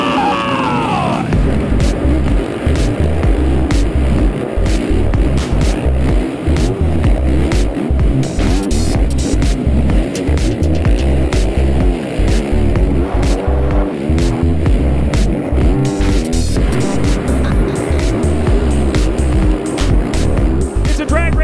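Racing motorbikes tear off the start of a race through the woods, with a loud, close, continuous engine roar whose pitch rises and falls as riders shift and accelerate.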